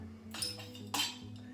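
Garden soil scooped into a glass jar for a simple soil test, two short bright clinks and scrapes against the glass over a low steady hum, close and fairly quiet.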